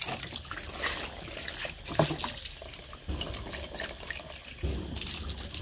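Water running slowly into an ostrich trough, a continuous low trickling and splashing stream with small surges, moderately faint and steady throughout, no one speaking.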